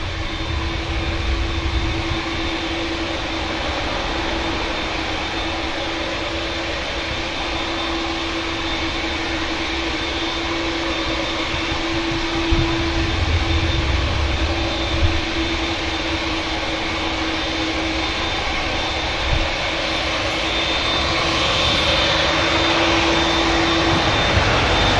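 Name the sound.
Aer Lingus A321neo airliner landing from Dublin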